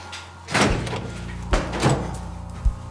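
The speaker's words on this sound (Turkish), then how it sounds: "İnsan dediğimiz yaratık kapı çalıyor." Several irregular knocks on a door, close and fairly loud: a firm first rap, followed by a few more spaced-out thuds over a quiet room background.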